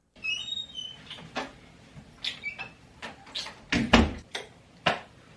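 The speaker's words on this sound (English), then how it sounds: "Someone's knocking at my door." Someone knocks at a door with a series of irregular, sharp raps, some spaced apart and others in quick clusters, heard close in an otherwise quiet room.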